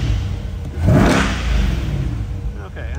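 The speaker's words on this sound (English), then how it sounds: "Give it a couple revs for you." A 2021 Chevrolet Corvette C8 engine revs up sharply once with a rising roar, then settles back to a rumbling idle, close by.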